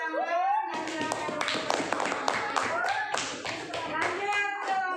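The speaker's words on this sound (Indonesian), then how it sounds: "silakan kita beri tepuk tangan dan silakan." A classroom group claps for a presenting student group during a lesson: a burst of brisk, uneven clapping from several children, fairly close, with children's voices talking over it.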